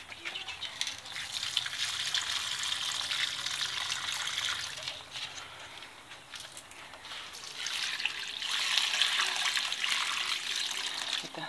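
Water pours from a painted one-gallon mayonnaise jar onto flowers in a Florida garden, a steady splashing trickle that dips briefly and then surges again, close and continuous with no talk.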